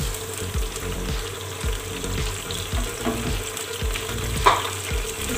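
Tomatoes sizzle in a pan of browned garlic, cooked down for achar gosht, with a steady frying hiss and periodic soft stirring knocks, close and continuous, no voices.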